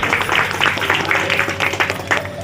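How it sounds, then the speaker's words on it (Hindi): Short burst of hand clapping for a deity at a Durga puja pandal in India, close and steady, with several people clapping together and no talking. "थोड़ा ताली बजा दो भगवान को"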